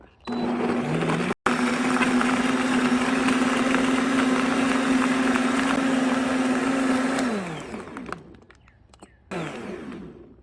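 A blender whirs loud and steady for about seven seconds while blending wild raspberry juice made with water, then winds down and stops, leaving quiet rattles and a brief final burst.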